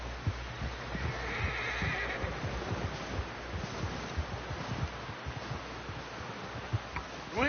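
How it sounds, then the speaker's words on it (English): A horse whinnies and its hooves thud and clop in Red Dead Redemption 2, set against a soft rustling outdoor ambience, with the neigh standing out near the start and hoofbeats scattered throughout. "Someone help John down off this horse."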